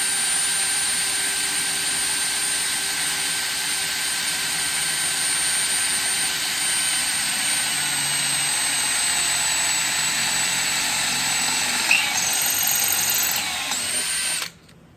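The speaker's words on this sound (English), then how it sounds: "Wait until I break out the Dremel to cut the hole." A Dremel rotary tool whines steadily and loudly while cutting a hole during a power entry module installation, holding a continuous high-pitched grind for about fourteen seconds before stopping abruptly, with no talk.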